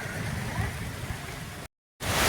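Heavy rain driven by wind in a village, a dense steady hiss and patter close by with a brief total dropout near the end before the downpour resumes.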